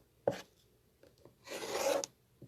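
A rotary cutter rasps along quilt block edges against a Creative Grid log cabin trim ruler, with a short scrape, a few soft taps and then one longer gritty cut, close and quiet and with no talking.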